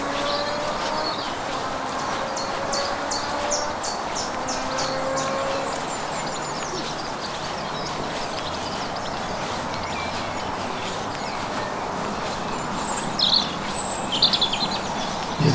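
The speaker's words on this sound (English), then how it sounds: "The bird singing in the background again." Faint bird song drifts through outdoor ambience at Longton Brick Croft wildlife area, scattered chirps and trills sitting far off under a steady background wash, with no talking.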